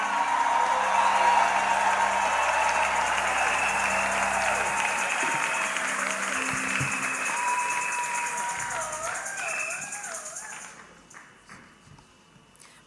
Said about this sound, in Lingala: Est-ce qu'on peut recevoir la servante de Dieu avec beaucoup d'acclamations?